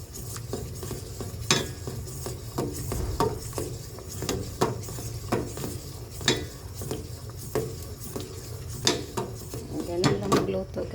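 A spoon scraping and clinking against a pot while Quaker Oats porridge cooks, repeated metallic taps and scrapes in an uneven rhythm over a low simmering bubble, close and clear, no voices.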